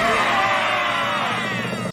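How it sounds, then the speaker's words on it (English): Characters from the Gravity Falls cartoon scream and yell at each other in a loud, dense, overlapping burst of voices that holds steady and then cuts off abruptly. "having all of the main and side characters screaming at each other"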